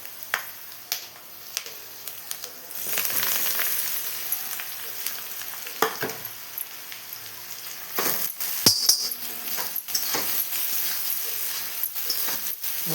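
Onion frying in plenty of oil with cumin and mustard seeds in a home kitchen, a continuous soft sizzle with scattered pops, crackles and occasional clinks of a utensil against the pan.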